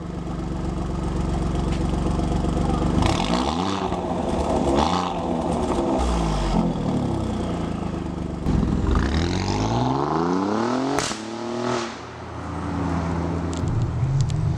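Alfa Romeo Giulia Quadrifoglio with a 2.9-litre V6 engine revving hard, several loud rising and falling sweeps as it climbs through gears, close and unaccompanied by talk.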